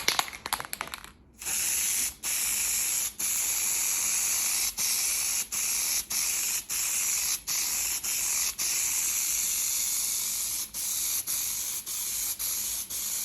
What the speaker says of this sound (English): I'm spraying the adhesive down right now